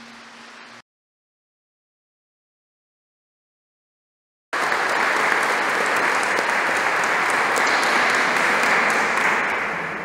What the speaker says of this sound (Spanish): Yo creo que Marco se merece un fuerte aplauso